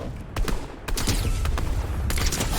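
Gunfire in the video game Fortnite comes as a handful of sharp shots over a dense, rumbling background.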